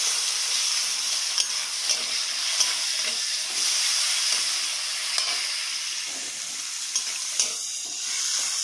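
Chopped large onions and slit green chillies fry in hot oil in a pan, a steady bright sizzle with occasional scrapes and stirring clicks throughout, close and alone with no talk.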